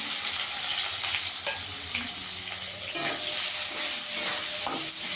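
Chopped onion sizzles in hot oil in a pan alongside dried red chili and a bay leaf, a constant frying hiss with occasional stirring scrapes and small pops, close and fairly loud with no voice.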